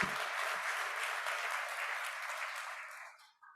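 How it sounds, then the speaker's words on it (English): Audience applause at a conference talk session, a steady, fairly distant sheet of clapping from a crowd that dies away toward the end, with no speech over it. "Give him a round of applause."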